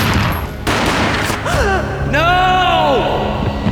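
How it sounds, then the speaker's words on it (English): Gunfire booms in the Max Payne PC game, a rapid fusillade of shots layered with dramatic score and sound effects, loud and close. "A gunshot boomed and she fell down in slow motion."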